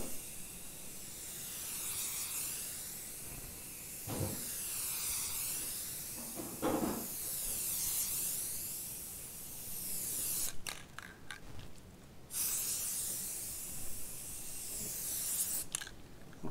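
Light first coat of finish sprayed onto a sanded foosball coffee table: steady close hiss in long even passes with brief pauses between strokes, plus a few clicks and knocks, no talking.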